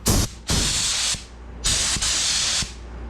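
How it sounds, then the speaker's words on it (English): A paint spray gun hisses loud and close in several bursts, two long blasts with short gaps, while being adjusted to spray more heavily at a home paint job. "Let me make it spray a little more."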